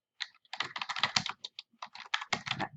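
Brisk typing on a computer keyboard, close and clear, with rapid clusters of key clicks broken by short pauses and no voices.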